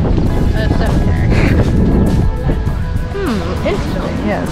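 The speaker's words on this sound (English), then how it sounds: "it is a very windy day" Strong wind buffets the microphone in loud, rumbling gusts at a cemetery in Hammamet while people talk nearby.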